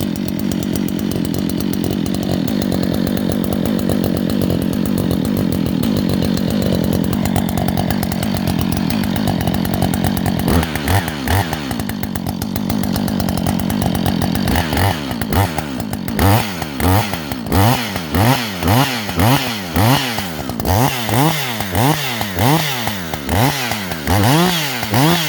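Lightly ported Husqvarna 555 chainsaw running alone at close range, a loud steady raspy drone that later breaks into rapid rising and falling revs, a harsh, mean-sounding two-stroke snarl throughout.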